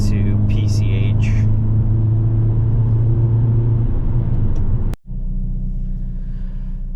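A 2022 Hyundai Elantra N drives a Malibu canyon road toward PCH, its engine and road noise a steady loud rumble from inside the car, broken by a brief dropout near the end before the drone resumes.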